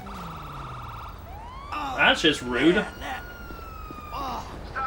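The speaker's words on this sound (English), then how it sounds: "There's a police car!" A police car siren wails in GTA 5, its rising and falling tone sweeping under and between a short burst of close talk in the middle.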